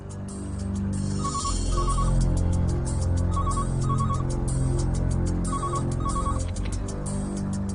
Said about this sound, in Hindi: बेटा फोन उठा लो।